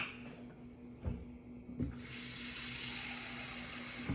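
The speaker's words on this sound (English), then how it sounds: "then you add hot water" A couple of light clinks, then hot water pours in a steady, close stream that continues to the end.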